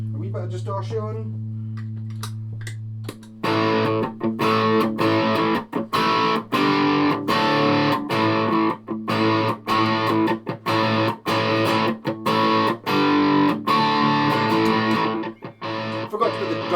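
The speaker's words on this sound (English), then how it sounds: "A wee bit of distortion." A Vintage V132 ReIssued electric guitar with distortion chugs out rapid rhythmic chords after a sustained opening note, gritty and loud with brief choppy gaps.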